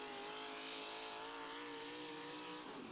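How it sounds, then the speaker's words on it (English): A diesel super stock four-wheel-drive pulling truck roaring at full power down a truck and tractor pulling track: a sustained, strained engine howl at steady pitch, distant and faint, filling the whole moment without voices. "those big stroke motors are singing"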